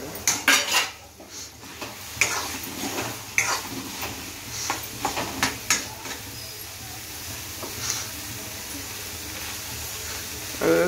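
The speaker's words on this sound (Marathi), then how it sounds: "आता आपण मच्छी त्याच्यात टाकूया" Fish goes into a pot of simmering gravy, with clanking of utensils against the pot, scraping and stirring, and faint sizzling in a home kitchen, all close and without talk.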